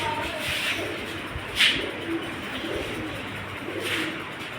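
Pigeons coo softly and repeatedly over steady background hiss, with a brief rustling burst in the middle.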